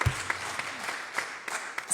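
Church congregation applauding during a New Year's Day worship service, a soft continuous patter of clapping from a roomful of people at moderate distance, without talk.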